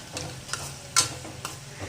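Peanuts sautéed in hot oil for rava upma, stirred with a spoon: a steady low sizzle broken by a series of brief scraping stirs, roughly every half second, close up with no talk.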